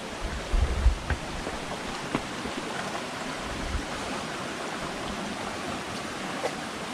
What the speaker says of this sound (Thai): น้ำตกชั้น 7 นะครับ